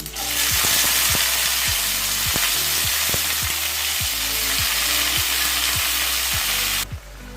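Beans tipped into hot oil with split green chillies in a pan, a loud continuous close sizzle with rhythmic clicks of stirring, then the hiss cuts off abruptly near the end.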